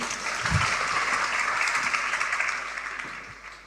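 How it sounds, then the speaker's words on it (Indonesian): Steady applause from a church congregation during a sermon, a dense wash of clapping that holds for several seconds at a fairly even level before easing slightly toward the end. "Kita beri tepuk tangan untuk kebenaran ini."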